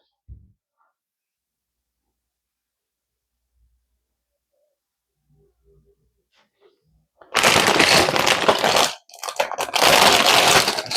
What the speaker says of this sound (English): Bags are crinkly.